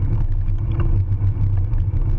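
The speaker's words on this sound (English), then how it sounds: "a car made a left turn to follow us" A car that has turned left follows behind cyclists, its engine and tyres making a low steady rumble close by, with wind noise over it.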